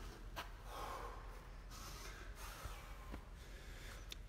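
Heavy, sharp breaths and snorts from a lifter during a clean and press in a strength session, several quick exhalations at close range over quiet background noise.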